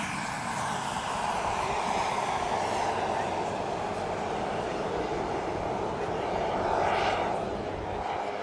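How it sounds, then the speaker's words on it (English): Radio-controlled model airplane with an onboard smoke system flying at the Joe Nall 2010 air show, its engine a steady, loud droning whine throughout that swells briefly near the end as it passes close. "Now Boley's flying this on a JR-10X radio"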